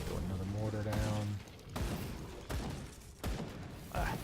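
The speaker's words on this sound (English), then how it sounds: "Throw another mortar down" Mortar fire in the Grim Dawn action RPG, a Demolitionist skill: a series of heavy thumps and blasts at roughly even intervals, with a character's voice or effect tone at the start and game ambience throughout.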